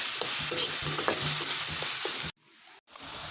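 Ginger garlic paste fries in a pan for a chicken curry, a steady loud close sizzle with light stirring scrapes, broken by a brief near-silent pause before the sizzle resumes.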